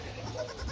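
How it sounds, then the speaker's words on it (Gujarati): A brief, faint bleat from a young goat kid, heard at a distance over background noise near a road. "આ અમારી બકરીના બચ્ચા"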